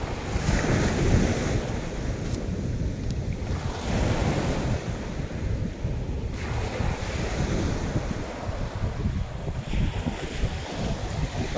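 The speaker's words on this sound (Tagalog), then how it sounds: "Nasa tabing dagat tayo mga kaibigan." Ocean surf washes steadily onto a seashore, waves rolling and breaking in a continuous loud wash while strong wind buffets the microphone throughout.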